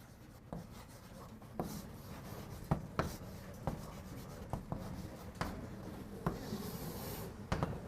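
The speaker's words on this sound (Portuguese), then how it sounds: "Deixa eu escrever de novo." Chalk or a marker scratches and taps on a board during a calculus lecture, a quiet series of short strokes at an irregular rhythm.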